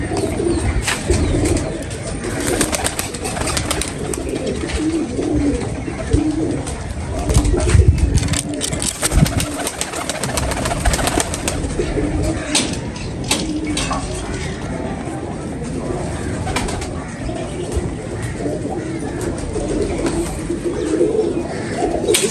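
Pigeons coo in low, throaty murmurs amid a busy background of shuffling, flutters, and scattered clatter, with occasional voices faintly mixed in.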